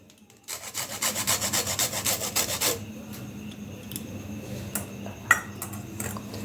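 Gondhoraj lemon peel is grated over potato-filled fuchka in a rapid run of close, rasping scrapes for about two seconds, followed by quieter kitchen clinks.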